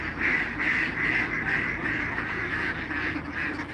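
A large flock of domestic ducks, around a thousand birds, quacks continuously in a dense, overlapping chorus that sounds fairly close and steady throughout, with no talking.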